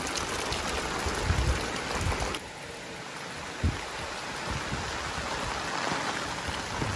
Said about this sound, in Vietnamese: Mưa kinh hoàng luôn.